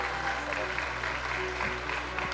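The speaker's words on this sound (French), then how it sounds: "sous les applaudissements du public" A crowd at an evening drone racing event applauds steadily in a continuous wash of clapping, while an announcer speaks over it.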